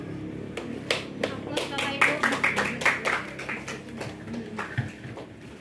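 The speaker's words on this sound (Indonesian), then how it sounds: "Aplaus Bapak Ibu untuk Ibu Rini SS, luar biasa ya." Applause from a school audience of parents and teachers at an Indonesian senior high school session, a dense patter of many hands clapping steadily for several seconds, fairly loud with faint voices mixed in.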